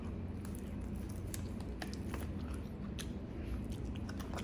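Someone eats fried fish with sticky rice, producing soft repeated chewing and small crunchy bites, faint and close against a steady low room hum, with no talking.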